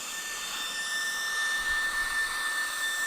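A Performance Guru oversize turbo dog dryer blower runs at full power, a loud, steady high-pitched whine with broadband airflow rush that holds evenly throughout with no talking.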